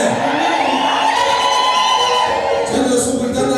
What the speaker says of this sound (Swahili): Harusi inakuwa na shangwe na vigelegele